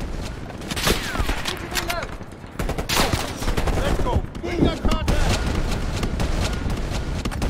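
Dense bursts of rapid gunfire and scattered single shots crackle through a Call of Duty Black Ops Cold War campaign firefight, loud and continuous, with players occasionally speaking over the shooting.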